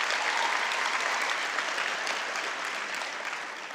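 Applause for sign language interpreters at a university graduation ceremony, a broad, even wash of many hands clapping that fades a little toward the end, with no talk over it.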